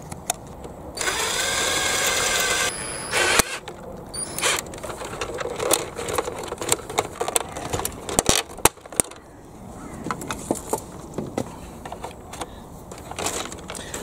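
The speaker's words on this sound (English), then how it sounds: "I'm going to start by drilling those out" A power drill whirs in a short steady burst, drilling out plastic locating pieces from a Bruder CAT toy excavator, then scattered clicks, scrapes and small plastic knocks follow as pieces are worked loose up close.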